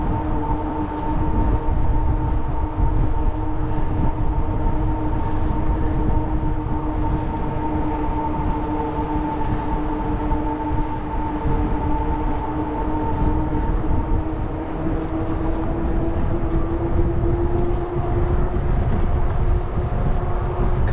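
A commuter train rumbles past steadily and loudly beside a rail trail in San Diego, a continuous roar with a droning tonal hum throughout, no voices.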